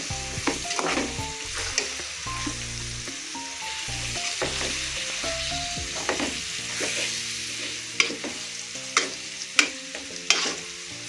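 Raw mango chutney ingredients crackle and sizzle while frying in oil, a steady busy spitting with repeated spoon scrapes and clinks against the pan, close and fairly loud over faint background music.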